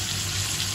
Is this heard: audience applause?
no